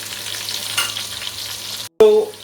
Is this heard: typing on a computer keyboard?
no